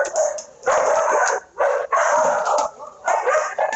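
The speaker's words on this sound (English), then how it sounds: "Don't know what they're barking at." Several dogs bark loudly and repeatedly nearby in bursts, with short pauses between volleys and some yips mixed in.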